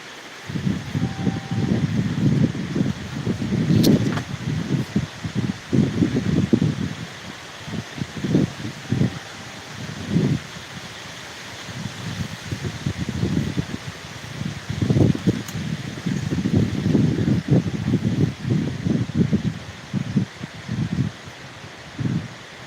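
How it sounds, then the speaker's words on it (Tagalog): Strong wind gusts in bursts against the microphone, low rumbling buffets rising and falling over a steady background hiss. "Grabe ang lakas hangin sa amin guys"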